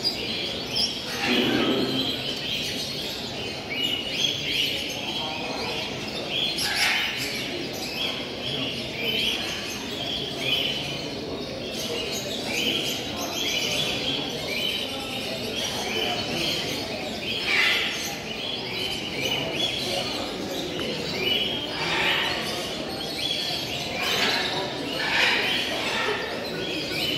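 Singing parrots call at a bird show in repeated chirps and tweets over a steady, busy crowd murmur, the calls moderately near and recurring every few seconds.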